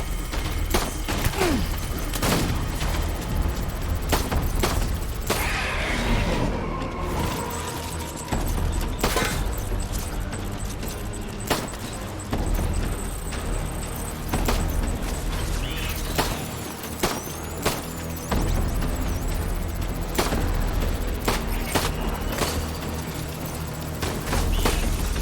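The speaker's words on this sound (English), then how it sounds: "keep shooting into them" Sustained gunfire from the video game Death Stranding during a stormy battle, with loud repeated shots and booms blending into a constant dense din, no voices.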